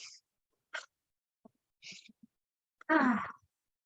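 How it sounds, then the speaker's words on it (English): Several breaths in and out during an energy-balancing routine, short soft bursts separated by silence, ending in a longer, fuller, voiced exhale, close and alone. "So you breathe in, exhale, breathe in."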